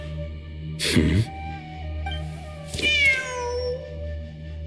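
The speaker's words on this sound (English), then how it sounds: "The cat!" A cat meows twice in the Genshin Impact video game, with a rising, drawn-out call and then a longer wavering one, set against a steady background hum and music.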